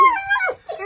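A dog howls at a photo shoot in Negureni, with rising and falling wavering tones over just under a second. The sound is fairly close and clear, with no talk over it.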